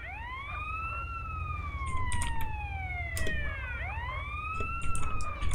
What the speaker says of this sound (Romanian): Ah, mai vine mașina de ambulanță.